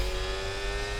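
An F1 car engine in F1 24 at the Jeddah circuit, a steady loud high-revving whine held for about a second with no clear gear change.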